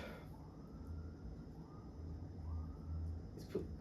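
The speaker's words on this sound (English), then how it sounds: "these cops, man, need to stop with the sirens" A police car siren wails faintly in the distance, rising and falling slowly over low traffic rumble.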